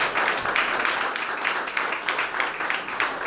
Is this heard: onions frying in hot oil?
no